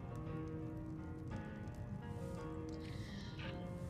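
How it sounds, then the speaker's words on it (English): Steady rain falling in Skyrim near Iverstead, a continuous dense patter at even loudness throughout, with faint low rumbling underneath and no talk. "It was raining outside."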